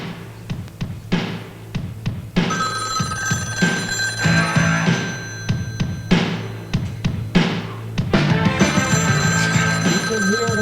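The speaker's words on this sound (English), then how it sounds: "the phone is ringing" A telephone rings repeatedly in a 1986 horror film, a loud, close ringing in steady repeated bursts over eerie background music with drum beats.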